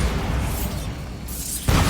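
A Bombarda spell explosion in Hogwarts Legacy, a dense booming blast filling the moment, followed by a sharp new burst near the end; no voices.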